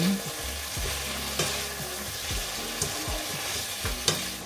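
Chicken breast seasoned with salt and pepper browns in a pan, a steady sizzle broken by repeated scraping stir strokes and a few light utensil taps, no talking.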